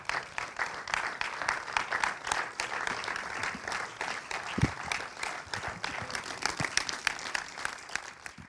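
An audience at a film presentation applauds two guests called to the front. Dense, steady clapping runs for several seconds at moderate distance with no voices over it.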